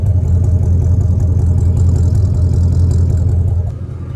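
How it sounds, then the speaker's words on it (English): A car engine with an exhaust leak at the muffler and a Cherry Bomb Salute muffler idles loudly and roughly up close, a steady low throbbing rumble that eases off slightly near the end. "It's got a nice exhaust leak where the muffler is."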